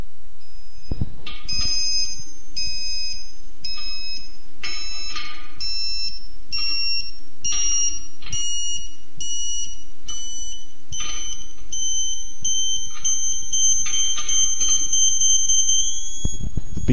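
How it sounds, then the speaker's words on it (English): Satellite finder beeper sounding while a Ka-Sat dish antenna is aligned, loud electronic beeps that quicken and rise in pitch before merging into a continuous high tone, with no voices. "Beeper tone will now get higher and reach finally a continuous high tone."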